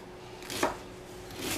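A knife slices through cabbage for a rustic coleslaw at a cookout, with one short, crisp cut near the start and a softer second stroke at the end, close and alone.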